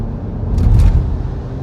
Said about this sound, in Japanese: 今4気筒が回転数上がってですね、